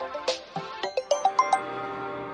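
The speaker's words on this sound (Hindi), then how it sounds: "बीच बीच में ये फोन आते रहते हैं।" A phone rings in a quiet room, a series of short melodic chime tones rising in pitch over about a second, clear and fairly close, then fading into a low hum.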